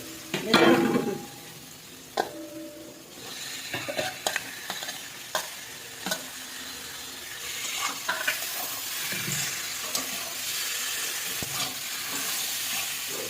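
Cauliflower tipped into a pan of turmeric masala, a thump of pieces landing followed by a rising steady sizzle and repeated scraping stirs, close up with no talk.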